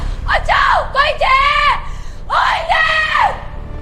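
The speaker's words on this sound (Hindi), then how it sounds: "वो चीखी" A woman's screams in a horror story rise and fall in two long, loud, wavering wails separated by a brief pause, close and piercing over a faint rumble.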